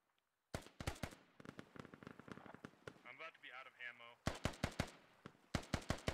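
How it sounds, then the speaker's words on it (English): Rapid automatic gunfire in the military shooter game Squad, loud clustered bursts separated by a brief pause, with a radio-like voice in the middle. "There has been a ton of exchange and gunfire."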